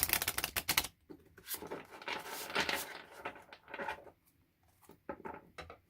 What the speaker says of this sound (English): I usually shuffle better, but shuffling around a tripod